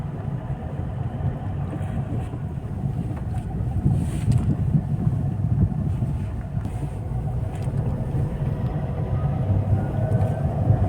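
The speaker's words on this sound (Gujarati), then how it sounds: "હા ટ્રેક્ટર આવે ભાઈ" A tractor engine drones steadily nearby as it approaches on a road, growing slightly louder partway through with a rough rumbling tone and no talking.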